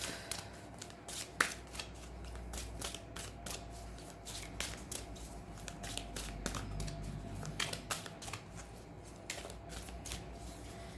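A deck of cards being shuffled and cut by hand, giving quick, crisp riffles and soft slaps in a rapid, irregular rhythm, close up and fairly quiet.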